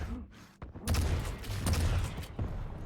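A rocket fired in an arena shooter match, with sharp explosive thumps and bursts of gunfire-like impacts rising suddenly after a quieter start, fairly close and punchy.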